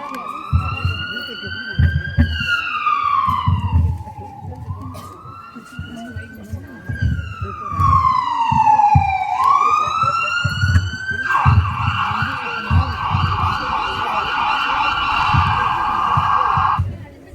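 Ambulance siren wailing loudly and close, rising and falling in long sweeps before switching to a steadier high tone, with a busy rumbling background underneath.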